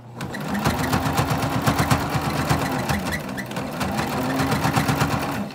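A sewing machine runs steadily, stitching a fabric headband with back stitches at start and end; a close, continuous rapid mechanical chatter with a few brief pauses.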